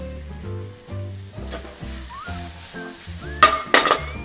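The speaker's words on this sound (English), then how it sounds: "So we're gonna saute the leeks very quickly." Leeks seasoned with salt and pepper sautéing in a pan, soft sizzling broken by stirring and a few sharp clinks of utensil against pan near the end.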